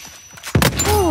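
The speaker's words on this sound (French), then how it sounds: "Je lance une grenade." Grenade in the video game Uncharted 4 landing with a dull thump, followed by a burst of crackling debris and a rising, ringing tone as the blast carries on.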